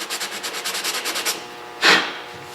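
Factory primer being hand sanded on a 2007 Pontiac Grand Prix bumper with 180-grit paper, heard close up as about a dozen quick, rhythmic rasping strokes followed by one longer, louder scrub.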